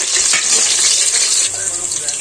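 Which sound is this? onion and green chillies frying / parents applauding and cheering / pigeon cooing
onion and green chillies frying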